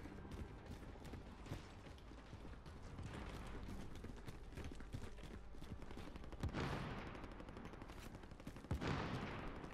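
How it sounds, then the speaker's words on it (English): Gunfire in the Call of Duty Warzone video game crackles throughout, with dense bursts of automatic and single shots, fairly far off and moderately loud, plus a couple of sharper, nearer cracks toward the end. "Where's that shooting coming from?"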